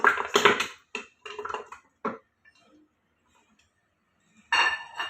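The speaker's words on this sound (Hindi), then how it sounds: "एक कुकर लेना है और इस कुकर के अंदर हमने इन पायों को डाल देना है।" Goat trotters drop one after another into a metal pressure cooker, giving a series of sharp, close clinks and knocks with short quiet gaps, then a final clattering burst.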